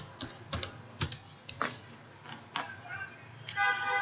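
Keys on a computer keyboard clack in short irregular bursts, close and fairly quiet, with a few sharper taps and a quick flurry at the end.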